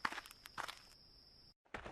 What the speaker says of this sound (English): Lord Hong heard soft footsteps.